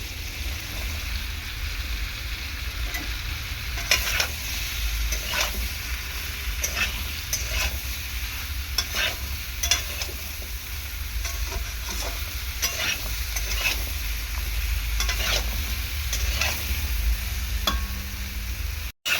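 Ridge gourd stir-fried in a pan, a steady close sizzle running throughout with frequent scraping and clinking strokes of a spatula against the pan, no voices.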